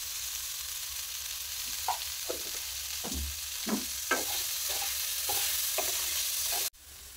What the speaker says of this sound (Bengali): তো বন্ধুরা দেখুন, সবজিটা ভেজে নিয়েছি